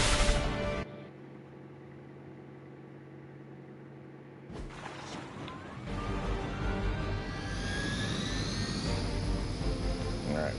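Helicopter in the video game Marvel's Midnight Suns, a loud mechanical whine and rumble that cuts out briefly, then returns with a rising rotor and engine drone that builds and holds.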